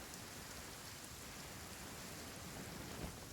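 Steady rain pours in Genshin Impact, a dense, even hiss of drops on surfaces with no break, fairly faint and unaccompanied by voices.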